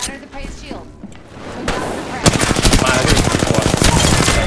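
Video game gunfire: a short quiet stretch with a single sharp shot, then a rapid automatic burst of steady, loud, closely spaced shots lasting about two seconds.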